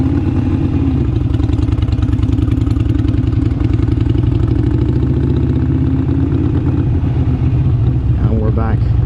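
A Harley-Davidson Iron 883 motorcycle engine rumbles loudly and close while being ridden, a steady pulsing throb that holds throughout, its pitch shifting slightly near the end, with no talking over it.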